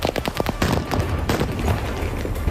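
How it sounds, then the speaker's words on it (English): Volleys of gunfire at a street protest, with a rapid cluster of sharp cracks up front giving way to a dense, continuous roar of shots and rumble, loud and close. "Gunfire renting the air and smoke filling the scene, as civilian protesters ran for cover to escape volleys of gunfire."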